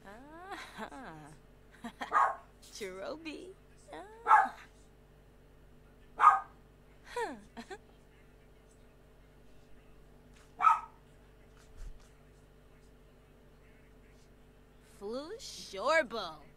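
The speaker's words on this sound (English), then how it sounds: "Doggo's barking." Dog barking in a life-simulation video game: a series of separate, sharp barks and yips spaced several seconds apart, clear and close over a faint low background hum.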